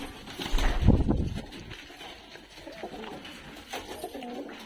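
Pigeons for sale coo in a loft, a loud low burst of cooing up close followed by softer repeated coos and calls.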